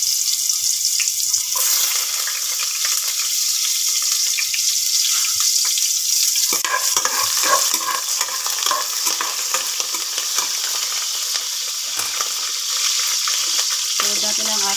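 Ginger sizzles and splatters in hot oil in a pan while squid is being cooked, a steady, close frying hiss with crackling pops and occasional stirring scrapes throughout.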